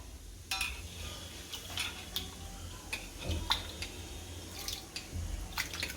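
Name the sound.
draining water from soaked mung dal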